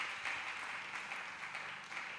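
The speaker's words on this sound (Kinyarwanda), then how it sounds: "Mumfashe dukomere Imana amashyi kubw'imirimo Imana yakoze." A church congregation applauds, a soft, steady wash of many hands clapping at a distance, continuous and fairly faint.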